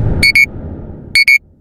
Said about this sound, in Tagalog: Nag-alarm na pala ang aking cellphone